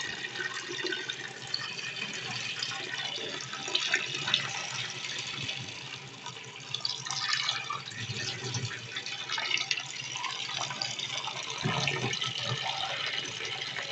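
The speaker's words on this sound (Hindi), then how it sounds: "फिर इसके अंदर हम ठंडा पानी डाल देंगे।" Cold water pours steadily from a tap over boiled potatoes in a pot, a continuous splashing, gurgling stream with drips, close and fairly loud.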